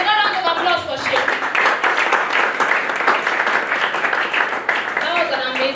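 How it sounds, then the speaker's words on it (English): Clapping from an audience at an alumni testimony talk follows a brief voice at the start, then continues as a lively, uneven patter of hands with occasional voices and cheers mixed in. "Another round of applause for Sheikh."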